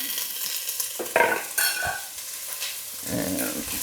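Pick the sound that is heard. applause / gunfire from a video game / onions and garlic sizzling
onions and garlic sizzling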